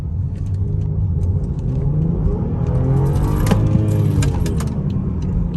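A 2015 BMW X6 xDrive35i with a twin-turbo V6 and about 100K miles accelerates hard from inside the cabin, engine note rising steadily and staying loud and continuous over road rumble.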